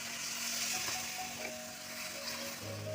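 Tamarind added to a hot pan of frying drumstick flowers, producing a steady, dense, close sizzle throughout with no talking.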